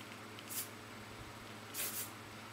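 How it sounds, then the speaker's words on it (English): Hairspray from a can, Kenra brand, sprayed onto hair in two short hissing bursts about a second apart, faint and soft against a quiet room. "I'm going to spray it really quickly with Kenra"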